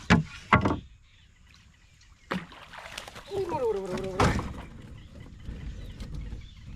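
A korameenu snakehead trapped in a fishing basket in the shallows of the Krishna river thrashes in several sharp, close splashing thumps, separated by quieter gaps with faint water movement and a voice in the background.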